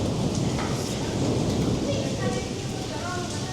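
Heavy rain pours steadily during a storm in Quetta, a dense hiss with rumbling undertones, and someone speaks over it throughout.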